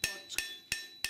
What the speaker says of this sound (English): hammering on that spot